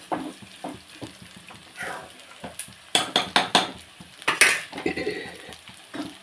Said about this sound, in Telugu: ఇదిగోండి పప్పు తాలింపు వేసేస్తున్నాను వేగిపోయినాయి పోపంతోనే